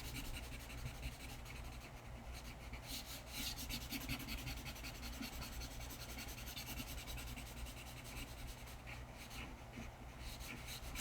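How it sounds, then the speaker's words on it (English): Sandpaper is rubbed over a graphite pencil drawing of a shaded sphere, a soft, close, continuous scratchy rasping with slight rhythmic strokes, quiet and without talk. "little bit of sandpaper. So I'm going to go ahead and rough this a little bit."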